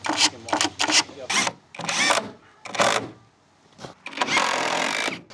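A power drill drives screws into shed fascia boards in several short, loud whirring bursts of varying length with gaps between, close by.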